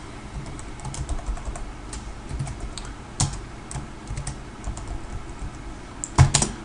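Typing on a computer keyboard while entering HTML code, a steady run of close, light key clicks with a few sharper, louder strikes near the end and no voices.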